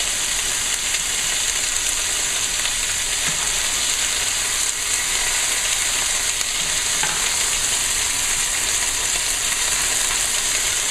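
Lobster tails frying in a coconut oil and ghee mix at home, a constant loud crackling sizzle that runs steadily without voices.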